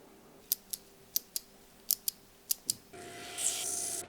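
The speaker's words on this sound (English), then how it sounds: "I'm playing with some mechanical keyboard switches" Mechanical keyboard switches click one at a time in sharp, isolated bursts, about nine snaps in irregular rhythm, with a steady hiss rising toward the end.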